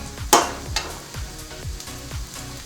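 Garlic frying in a pan for shrimp, a steady sizzle with a sharp clack near the start and then a series of soft, evenly spaced stirring strokes.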